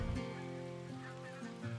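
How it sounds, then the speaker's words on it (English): Several geese honk in a harsh, droning chorus in the video game Call of the Wild, continuous and close, over a faint rain-like patter. "Those geese have to die after hearing that."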